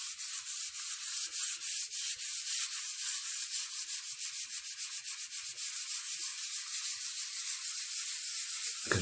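Rhythmic scratchy rubbing of sandpaper on wood, quick back-and-forth strokes repeating steadily, close up with no talking.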